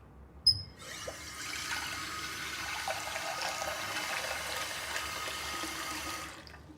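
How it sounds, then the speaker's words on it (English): Steady rush of tap water running for several seconds after a brief clunk, filling a container with a continuous hissing flow. "fill the 2 containers with tap water"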